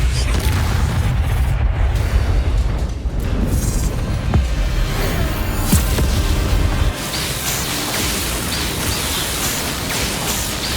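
A Confringo explosion spell in the video game Hogwarts Legacy, a loud rumbling boom with a dense noisy roar that rolls on for several seconds before easing into a lower sustained wash.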